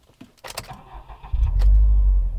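A 2018 Subaru WRX STI is keyed and its engine cranks and fires, settling into a loud, deep, steady rumble after some brief clicks and rattles inside the car.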